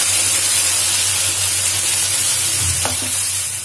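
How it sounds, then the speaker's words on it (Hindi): Chopped tomatoes hit a pan of cooked ginger and garlic over a low flame, giving a steady, close frying sizzle with faint stirring scrapes and no voices. "अब हम इसमें टोमेटोज ऐड कर देंगे और इसको अच्छे से मिक्स कर देंगे"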